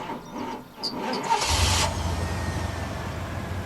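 A car engine starts up in a video game, a short cranking burst catching into a steady, moderately loud idle rumble that holds to the end.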